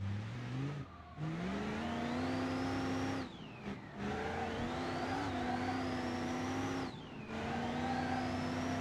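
A racing video game car engine revs and drives, pitch climbing through gears with brief drops at each shift, loud and continuous.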